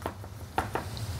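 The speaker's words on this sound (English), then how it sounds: "we can now just quickly give your garlic a nice little chop" Garlic is chopped with a knife on a board, a few soft, quick taps in a short burst over faint background noise.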